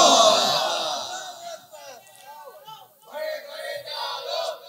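A crowd at an Islamic political rally in Bangladesh shouts the Nara-e-Takbir, Allahu Akbar slogan, loud at first and then falling away, with a swell of massed voices returning near the end.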